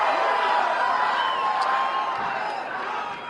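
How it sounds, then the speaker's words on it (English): A large crowd cheers and roars continuously at a close distance, a dense, steady wash of voices that stays loud throughout and eases slightly at the end. "What a crowd."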